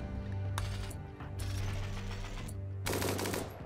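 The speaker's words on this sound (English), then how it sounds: "some of the guns have this cool custom effect when you shoot them" Guns firing in Rimworld with custom shooting effects, heard as three rapid mechanical bursts of clattering shots over a steady game background hum.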